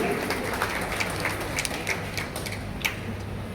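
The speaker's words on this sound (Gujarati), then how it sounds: "તાળીઓના ગડગડાટથી વધાવી લેશું" Dense, steady clapping from a gathered crowd at a village meetup, a continuous patter of many hands with a few sharper individual claps standing out, fairly close and filling the whole stretch.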